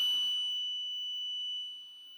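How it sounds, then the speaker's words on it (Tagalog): An Arduino-controlled electronic buzzer holds a steady, shrill high-pitched tone for about two seconds, fading slightly toward the end. "tapos yung buzzer natin, maingay na din"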